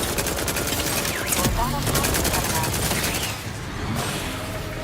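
Continuous rapid gunfire fills a firefight in the video game The Outer Worlds 2, dense overlapping bursts of shots that ease slightly toward the end.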